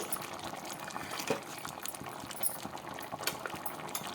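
A pot of beetroot sambar with onion and tomato simmers at a steady bubbling boil, close and moderately quiet, with scattered small pops and a faint clink, and nobody speaking.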